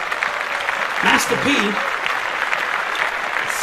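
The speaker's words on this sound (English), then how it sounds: "So we want to clap that up" Podcast studio applause: a steady, dense crackle of clapping runs through the whole stretch while a voice briefly speaks over it.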